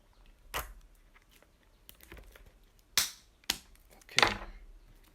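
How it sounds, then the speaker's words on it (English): Nail cutter snipping open AirPods packaging, several sharp isolated clicks and snaps spread over a few seconds, close and crisp against a quiet background. "I'm going to use a nail cutter for these to open these."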